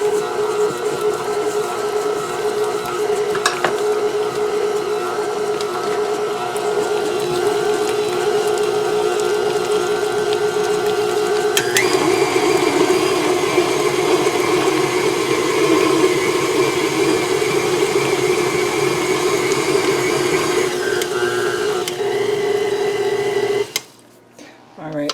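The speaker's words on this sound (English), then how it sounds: "I'm going to scrape the sides of the bowl using my KitchenAid mixer, which doesn't mess around" A KitchenAid stand mixer churns almond butter chocolate chip cookie dough with a steady, close motor whine that shifts in pitch partway through and cuts off at the end.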